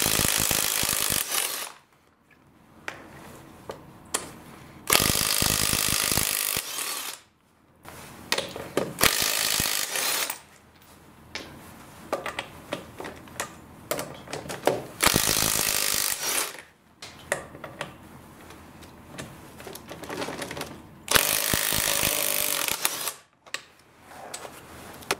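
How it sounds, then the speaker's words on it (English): A cordless impact wrench fitted with a 3/4 inch impact socket removes the wheel nuts from a 2007 Chevy Equinox in loud, close, buzzing bursts of about two seconds each, separated by quieter pauses. "my cordless impact wrench"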